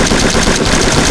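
Rapid gunfire from the stealth video game Sneak Thief, a dense, loud burst of shots packed tightly together and filling the whole moment with no pauses or voices.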